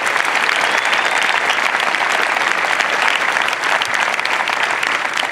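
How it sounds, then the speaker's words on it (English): A large crowd at an Air Force basic military training parade applauds the recruits' family members, with loud, dense, continuous clapping that holds steady for several seconds and no voice rising above it. "Round of applause to all the family members."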